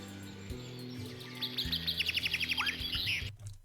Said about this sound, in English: Those birds are really loud.